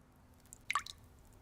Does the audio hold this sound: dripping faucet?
yes